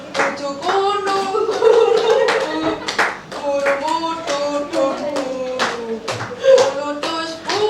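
A small group claps along rhythmically in a classroom guidance session, sharp hand claps punctuating children and adults singing together.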